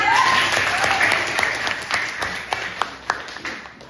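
A class of schoolchildren claps together in a classroom, a loud burst of applause at first, then thinning into scattered separate claps near the end.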